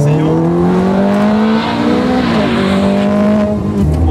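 A Ferrari F430 Scuderia driven hard through corners, its engine note loud and close, rising and dipping with throttle changes, with a brief tire squeal as the car turns.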